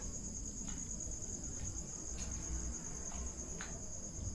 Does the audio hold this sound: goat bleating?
no